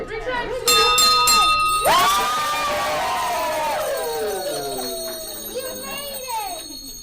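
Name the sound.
bell rung at children's hospital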